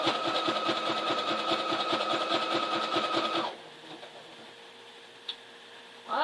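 A sewing machine stitches in a rapid, steady mechanical whir for a few seconds, then stops, leaving quiet room tone and a single small click.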